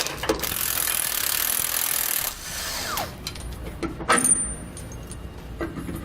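A 1-1/8 socket and wrench work loose the lower shock-eye bolts on a 2017 Ford F-53 chassis, with steady mechanical noise, scraping, and a few sharp metallic clinks and ratchet clicks nearby.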